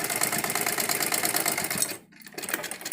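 A sewing machine stitches the side seam of a patiala salwar in a fast, steady rapid clatter, cutting off briefly near the end before starting again.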